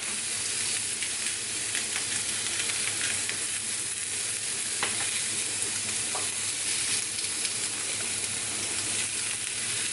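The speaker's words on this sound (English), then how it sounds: "Don't need to fry it too long, you don't need to cook it all the way through." Pork chops seasoned with salt and pepper fry in a pan with a steady, dense sizzle and hiss that holds at an even level throughout, with a few faint pops and clicks and no voices.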